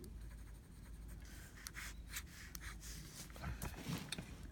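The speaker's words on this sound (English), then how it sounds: "I'll just draw what this nib looks like" A fountain pen nib drawing on paper, soft close scratching and rubbing strokes that are faint and irregular, with occasional light taps.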